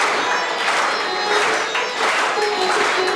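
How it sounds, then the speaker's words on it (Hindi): Dense, steady applause from a crowd at a Republic Day celebration, a continuous wash of many hands clapping close and loud for the whole stretch. "ताली बजते रहनी चाहिए ना,"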